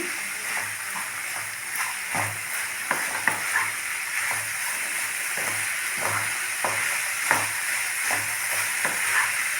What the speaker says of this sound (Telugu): ఇప్పుడు పోపులో వేసిన తర్వాత ఈ పనసపొట్టుని ఇలాగ శుభ్రంగా కలుపుకుని